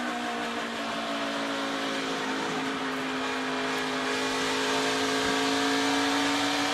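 A NASCAR race car at Iowa held at high throttle, a loud continuous engine drone with a steady pitch that rises slightly, heard from onboard with no break.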